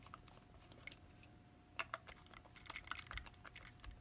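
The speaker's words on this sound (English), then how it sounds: "You're going to start by unscrewing the screws that hold the cap down." Small screws are worked loose from the cap of a LeosWood wooden kazoo: faint, close clicks and scratchy taps in quick, irregular bursts, with no voice.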